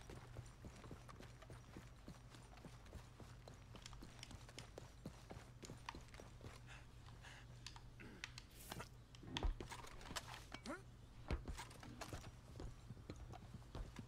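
Rhythmic clip-clop of horse hooves in the video game Red Dead Redemption 2, steady and fairly close, over a low constant hum with a few louder thuds.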